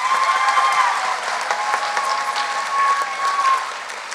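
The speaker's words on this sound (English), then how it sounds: "Please give a big round of applause." Sustained audience applause at a celebration of the Pranavam group turning 15, steady dense clapping throughout, fairly loud and alone with no talk.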